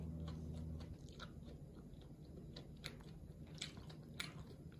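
Someone chews a brioche slider burger with beef patty, onion, tomato and cheese, producing soft, close, moist squishing and biting sounds, quiet and without talk.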